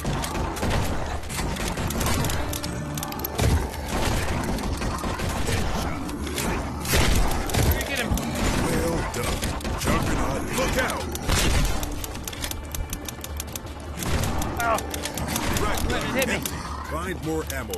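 Dense, rapid bursts of gunfire from a VR shooter video game crackle almost nonstop, with loud sharp impacts stacked over one another while voices talk throughout.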